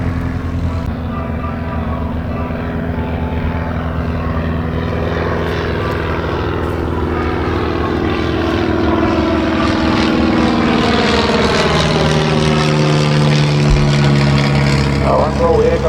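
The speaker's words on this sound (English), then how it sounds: "If you look to the left of the sky, you'll see the yellow Tiger Moth." A yellow Tiger Moth biplane with a propeller engine flies over an air show, a steady droning engine that stays loud throughout, with a rising, shifting pitch as it passes.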